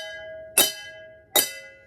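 A sub-minor chord on a microtonal xylophone sounds twice, each hit bright and ringing before fading, with the strikes about three quarters of a second apart.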